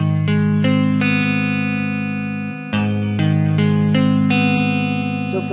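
An electric guitar plays a song part, a series of ringing strummed chords with gentle distortion and reverb, struck in a steady rhythm with each chord sustaining before the next.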